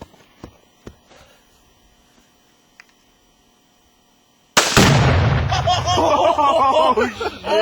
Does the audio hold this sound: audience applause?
no